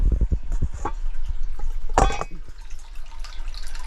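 Spring water flowing into a small holding tank, a steady close trickle and splash with irregular drips and gurgles over constant low running water.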